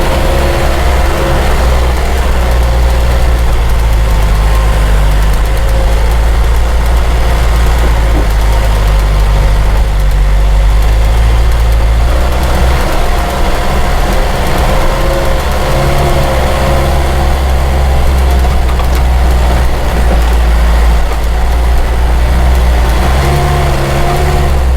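A car engine hums loud and steady while climbing a steep slope on a narrow road, its low drone holding throughout with slight shifts in pitch and no talk.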